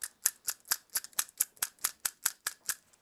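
Scissors snip repeatedly at a deer hair collar on a fishing fly, about thirteen crisp, evenly spaced cuts in a close, quiet setting with no voices.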